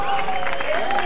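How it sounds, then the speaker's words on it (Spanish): Audience applause at a Spanish-language rap battle league event, a steady dense wash of clapping filling the whole moment, loud and close with no pauses. "Un aplauso, gente, un aplauso."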